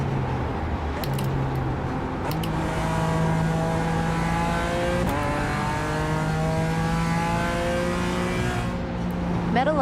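Race car engine in a racing video game at Suzuka, revving up and down through gear changes with rising and falling pitch, a brief tire squeal, and loud, steady throughout.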